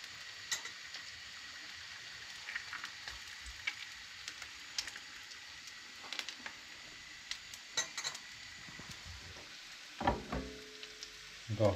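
Afyon sucuk sausage frying in a pan makes a steady soft sizzle, with scattered clinks of cutlery and pans, then a louder rattle of cookware near the end.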